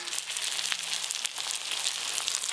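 Chopped onion, tomato and ground ginger, cumin and dried chilli paste frying in a pan, producing a dense, steady hissing sizzle with faint crackles, close and continuous without speech.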